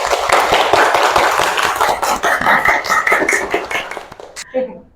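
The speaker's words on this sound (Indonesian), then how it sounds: "Tepuk tangan dulu buat kita." A primary school class claps hands together in a dense, sustained burst of many overlapping claps, loud and close, with voices chattering underneath before it tapers off at the end.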